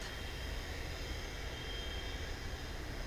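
A plane passing at Dallas/Fort Worth airport, heard as a continuous broad engine roar, distant and steady, with no voices over it.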